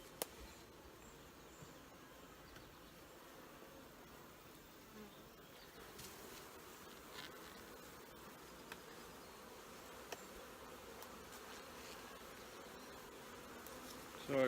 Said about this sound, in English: So I got a bunch of bees on the ground